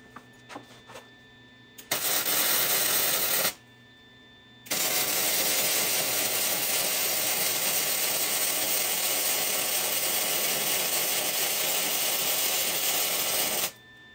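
A wire brush scours the welds on a Super Duty axle during an axle swap, giving a loud, steady, harsh scrubbing in two bursts: a short run, a brief pause, then a long continuous stretch.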